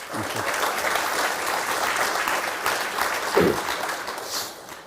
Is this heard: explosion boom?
no